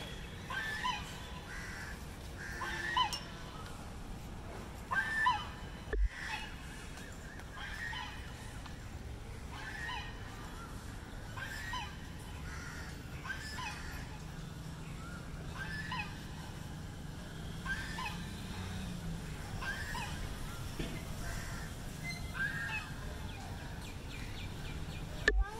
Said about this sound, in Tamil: பேர்ட்ஸ்